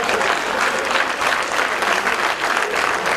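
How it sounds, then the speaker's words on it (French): A crowd at a live show in Ouagadougou, Burkina Faso, applauding for football players, with dense, loud, continuous clapping that fills the space evenly from start to end. "On applaudit pour les joueurs du ballon."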